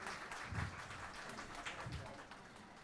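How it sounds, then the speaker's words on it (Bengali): Audience applause at a Bengali poetry book launch, a steady broadband patter of many hands held at a moderate level for the whole stretch, with a few low thumps and faint voices beneath it. "জোরে করতালি হোক।"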